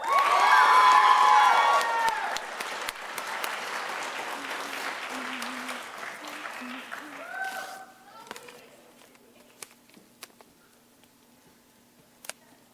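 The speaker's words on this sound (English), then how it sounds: "Please give a round of applause for Miss Chloe Brenning." Audience applause with some cheering fills the room at a school band concert, loud at first and then thinning out to scattered claps, with voices talking over the tail end.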